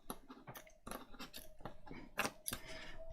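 Scissors cutting across a piece of material, giving a series of close, crisp snipping and rustling strokes in an uneven rhythm, with no talking.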